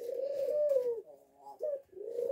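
A caged ringneck dove gives a soft, rolling coo, a sustained low call that dips and resumes in two or three phrases, near and quiet with no voices.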